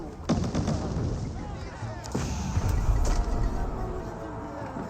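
Mangonel volleys in Age of Empires 4 strike a pack of javelin throwers amid battle din: heavy thuds and crashing impacts over a constant loud clatter, with talk heard in places.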